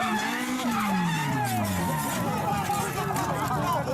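A Toyota Corolla's tires skid and squeal in a racing video game, a long sliding screech layered over steady engine drone, with people talking in the background.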